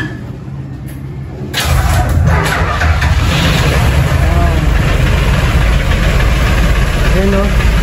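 A newly rebuilt engine idles steadily and loud after starting up about a second and a half in, with a low knocking rumble throughout and voices talking over it.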